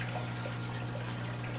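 Gravity-fed return water pouring back into a reptile room pond from a 1.5-inch pipe, a steady close trickle and splash held at an even level throughout, with a low constant pump hum beneath and no talking.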